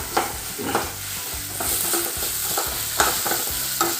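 Ginger garlic paste sautés in a pan, stirred in steady, rhythmic strokes that scrape over a continuous close sizzle, with no voices.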